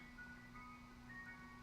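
An ice cream truck's chiming jingle plays faintly in the distance, thin tonal notes drifting over a low steady hum of background noise.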